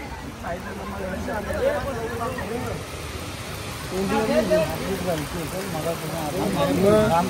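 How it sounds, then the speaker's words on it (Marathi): Steady rain falls outdoors near the Padmanabhaswamy temple in Kerala, a constant wash of hiss beneath people talking nearby throughout. "पाऊस आलेला आहे."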